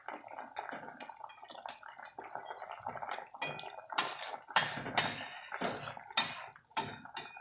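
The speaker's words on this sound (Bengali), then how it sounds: "বড়াগুলো ঝোলের মধ্যে দিয়ে দিলাম" Fried banana-flower fritters drop into simmering gravy in a pot, giving a run of close clattering splashes and wet plops with utensil clinks, growing louder and denser toward the end; no voices.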